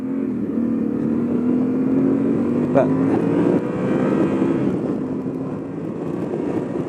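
Yamaha Tenere 700 motorcycle engine building steadily under acceleration, a continuous loud drone rising gradually in pitch, close and sustained with wind noise, a brief spoken word over it.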